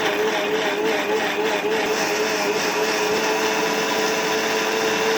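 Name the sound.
mixer grinder blending amla and lemon juice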